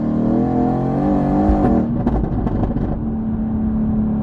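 Mercedes-AMG GT R fitted with an Fi aftermarket exhaust system revs loudly and up close, a rising engine note peaking at about 1.7 seconds and then dropping into a rough, crackling idle-level rumble.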